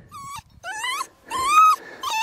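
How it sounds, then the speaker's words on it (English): A lost young dog found along a hiking route in Jordan gives a series of close, high-pitched whimpers and whines, three or four drawn-out cries separated by short pauses. "Oh, we've got a dog. We've got a dog."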